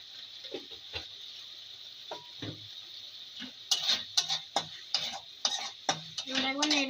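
Shrimp and gram-flour fritter batter with cumin and coriander powder stirred in a bowl, spaced clicking and scraping strokes that grow quicker and louder toward the end, close and without talk.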